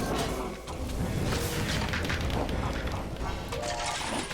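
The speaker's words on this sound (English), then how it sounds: "We did get our firework arrow." Firework arrow bursting in the Minecraft Dungeons video game: dense, continuous crackling booms and blasts under a loud, busy game mix, with sharp pops near 1.5 and 3.5 seconds.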